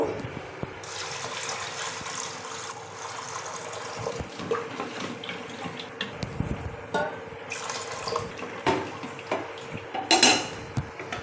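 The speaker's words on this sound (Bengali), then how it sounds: "এর পরিমাণ মতো জল দেবো।" Water runs and splashes into a pressure cooker holding a khichuri rice-and-lentil mixture, a sustained close pour broken by clanks of metal pots and utensils, louder toward the end.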